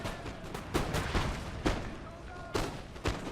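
Musket volleys crack out in Napoleon: Total War during the Battle of the Pyramids as British line infantry fire, several sharp irregular bursts rising over a constant rumbling battle din.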